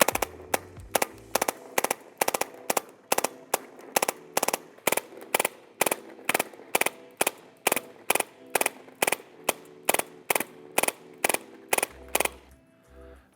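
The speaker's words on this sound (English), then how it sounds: "And the true test of any drum mag, full auto." Paintball marker firing full auto from a G3D Mark IV drum magazine, a long string of loud, evenly spaced sharp shots in steady rapid rhythm, close and alone, with a brief pause near the start.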